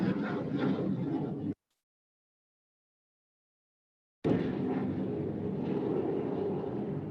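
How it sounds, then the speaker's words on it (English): A low broadband rumble of an airplane passing over near a local airport, steady and fairly loud, cut by a few seconds of complete silence before the drone resumes. "I'm sorry, there's an airplane."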